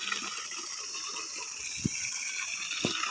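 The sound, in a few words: water gushing from farm borewell motor pipe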